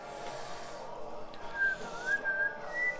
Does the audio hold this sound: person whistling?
yes